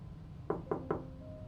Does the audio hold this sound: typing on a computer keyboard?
no